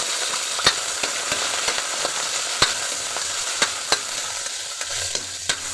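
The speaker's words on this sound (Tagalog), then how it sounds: "Medyo papulayin lang natin guys yung bawang sibuyas." Garlic and onion sauté in a hot pan with a continuous close sizzle, punctuated by sharp pops and a few utensil clicks, no voices.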